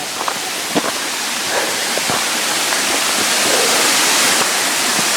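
Champney waterfall roars as a loud, steady wash of rushing water heard from close by at the top of the falls, with a few faint knocks underneath.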